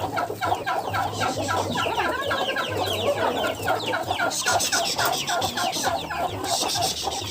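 Hens cluck steadily and repeatedly at close range, a busy chorus of short clucks with some fluttering, as a broody hen leads her chicks around a garden, with no talking over it.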